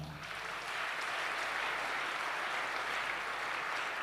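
A church congregation applauding the Lord, with sustained, dense clapping and some cheering filling the room at a steady level throughout.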